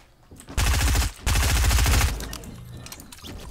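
Rapid automatic gunfire in Fortnite Battle Royale comes in two loud, dense bursts of fast shots, a brief pause between them, then fading echoes and quieter background noise.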